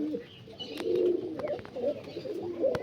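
Malwai pigeons at a loft in Dankuni, Hooghly, coo in low throaty bursts, several close overlapping calls with faint wing flutters and clicks between.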